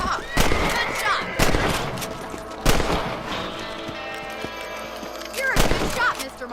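Gunfire in the Red Dead Redemption game while hunting rabbits: four loud, booming rifle shots spaced about a second apart, each with a long rolling echo, over a low rumble of horse hooves and ambient game sound.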